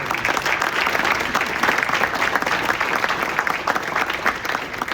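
An audience at a golf club awards dinner applauds, giving a dense and steady burst of clapping that holds strong and close for the whole stretch.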